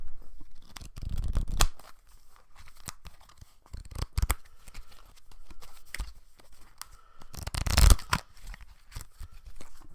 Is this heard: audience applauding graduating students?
no